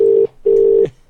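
Two loud, steady telephone tones, one short and one slightly longer with a brief gap between, heard on a line calling a voicemail.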